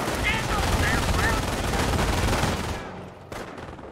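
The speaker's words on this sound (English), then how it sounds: "They got machine guns nearby and stuff like that" Rapid machine-gun bursts in a Company of Heroes battle at St. Lo, dense and loud for most of the stretch, then dropping off before a final sharp burst near the end.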